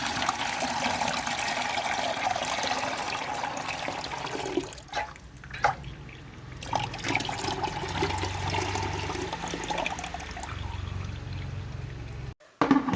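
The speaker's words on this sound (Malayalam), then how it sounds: "ഈ വെള്ളം ഒന്ന് അരിച്ചൊഴിച്ച് വേറൊരു പാത്രത്തിലേക്ക് നമുക്ക് ഊറാൻ വെക്കാം" Water drained from washed tapioca is strained and poured into another vessel, a steady close splashing flow that dips briefly midway and then resumes before cutting off.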